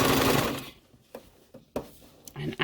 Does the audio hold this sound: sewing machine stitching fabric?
yes